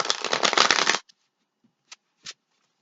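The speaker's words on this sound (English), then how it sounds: "Alright, one more shuffle." A quick riffle of cards being shuffled, a dense burst lasting about a second, followed by a couple of soft taps and clicks.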